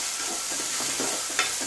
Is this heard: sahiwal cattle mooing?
no